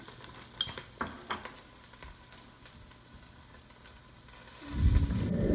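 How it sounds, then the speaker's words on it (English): Hot tomato sauce with vegetables is stirred in a pan while cooking venison shanks, giving a soft sizzle with scattered scraping clicks from the utensil and a louder rushing burst near the end. "Now we will be stirring the tomato sauce with the veggies."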